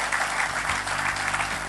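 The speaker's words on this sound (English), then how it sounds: "Can we give the Lord a big hand for that?" A church congregation applauds in praise during a worship service, a dense, steady wash of many hands clapping close and loud, with no talk over it.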